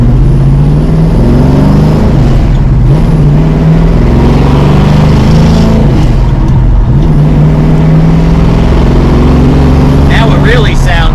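Hemi-powered Dodge Charger Rallye hot rod with machine-gun style exhaust tips and a Tremec TKX gearbox cruising on an open road, its loud, deep engine drone holding steady and rising in pitch through the gears, with a voice talking over it.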